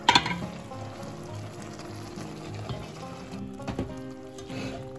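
Plums simmering in thickened sugar syrup on the stove for candied prunes, a steady bubbling, sizzling hiss with a few louder pops at the start, close and alone with no voices.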